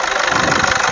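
A Toyota Fortuner with a 2KD engine running at idle, a close, loud, steady mechanical hum with a fine rhythmic clatter and no voices.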